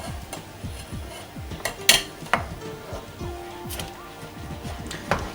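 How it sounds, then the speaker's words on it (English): A spoon scrapes and clinks against a pan as condensed milk is stirred for white brigadeiro. The strokes are steady and repeated, with occasional sharper metallic taps at close range and no talk. "You gotta keep stirring it, otherwise the condensed milk is going to stick to the bottom of the pan."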